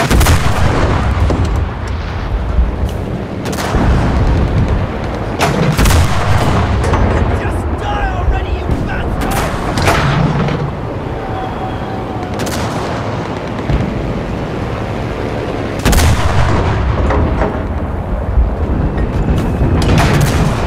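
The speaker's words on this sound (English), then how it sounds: "Calling in artillery! Copy! Confirming fire!" Artillery fires again and again, with loud heavy booms landing at irregular intervals, roughly half a dozen of them, over a rumbling battlefield background.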